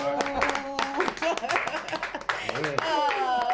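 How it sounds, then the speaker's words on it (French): A studio audience at a Women's Day web TV show claps for Bess Bomba, bursts of hand claps mixed with chuckles, while voices talk and exclaim over them. "On va l'applaudir très fort."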